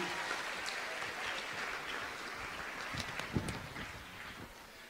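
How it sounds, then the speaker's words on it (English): An audience at a televised event breaks into applause, a soft steady patter of clapping that carries on throughout with a few sharper claps near the end. "Give yourselves a round of applause for having us here today, everyone."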